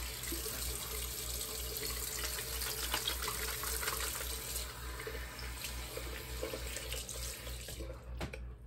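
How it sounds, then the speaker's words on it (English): Tap water runs steadily into a sink for hand washing in a quiet home setting, a continuous close splashing stream with a low hum beneath and faint handling noises. "I'm gonna wash my hands."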